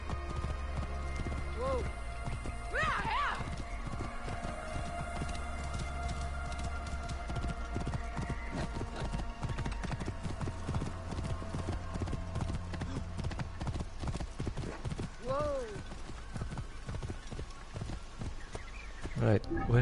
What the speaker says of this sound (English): Excuse me, gentlemen, I'm gonna take this horse.